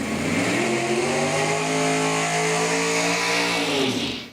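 Junior dragsters blast down the drag strip at Numidia Dragway during a Summit Series points race, a loud, sustained engine roar holding steady and then fading away near the end.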